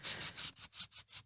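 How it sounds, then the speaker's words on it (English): A sanding block rubs along the edge of a horse's hoof in five or six quiet, rhythmic back-and-forth strokes, each a soft gritty scrape close by with brief pauses between. "Then I'm going to use a sanding block."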